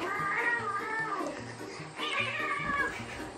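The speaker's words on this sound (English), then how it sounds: "Who is that? The white cat." A white cat meowing twice, two drawn-out, wavering cries close by with a short pause between them, heard alone at modest volume.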